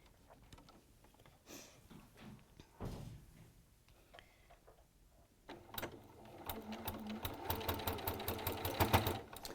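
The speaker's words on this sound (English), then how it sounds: "So were you sewing actually on that drawn line there, Sallieann?" A 680 Plus sewing machine sews a pleated rainbow cushion. After a few soft knocks and handling noises, it starts up and runs in a quiet, steady rhythmic whir that builds slightly toward the end.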